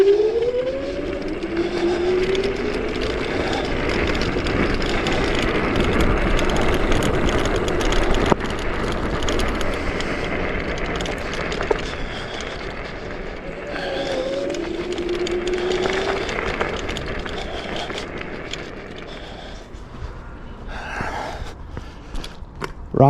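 A CHAOS Freeride 2400W dual-motor electric scooter speeding along tarmac, its whining motor pitch rising steadily with strong wind rush, close and continuous, the whine climbing again partway through.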